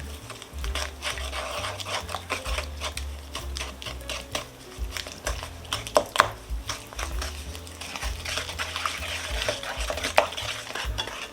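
Sugar and butter mixture is stirred in a bowl for Polish Easter bread, with a continuous close scraping and knocking of a spoon against the bowl in uneven rhythm.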